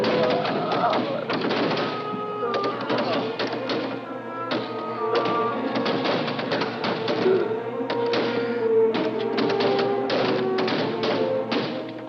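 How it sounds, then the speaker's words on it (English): Heavy blows batter a door during a fight in a 1961 Viking adventure film, a steady run of dull thuds and knocks mixed with shouting voices and dramatic music. "Break the door down!"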